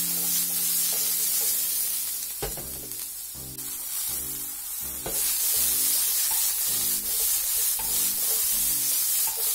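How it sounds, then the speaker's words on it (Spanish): Tender onion pieces frying in a splash of olive oil in a skillet, a bright hiss of sizzling with rhythmic utensil strokes stirring through it, close and continuous. "En la misma sartén vamos a poner un chorrito de aceite de oliva y a pochar unos trozos de cebolla."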